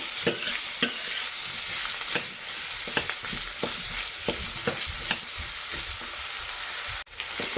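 Aloo soya chunk curry frying in a pan with steady sizzling, punctuated by regular scraping strokes of a spoon stirring the mixture, close and fairly loud, with no voices.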